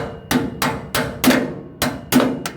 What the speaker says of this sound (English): I'm about to get a hammer